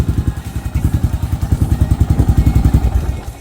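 A Yamaha SR400 Final Edition 2025 motorcycle, started without the valve lifter, settles into a loud, close idle with a steady, rapid thumping beat that holds through the whole stretch.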